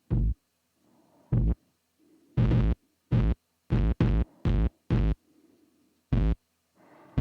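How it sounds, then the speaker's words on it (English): Heavy, distorted kick drum hits thud in an irregular pattern, loud and saturated, with faint low hum between some hits and no voices. "I like to have distortion on the kick."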